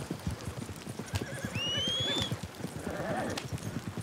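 A horse in Red Dead Redemption 2 gallops with steady, rapid hoofbeats, loud and close, and lets out a clear whinny partway through.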